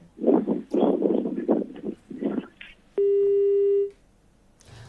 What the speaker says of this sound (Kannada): ಫೋನ್ ಸಂಪರ್ಕ ಕಟ್ ಆಗಿದೆ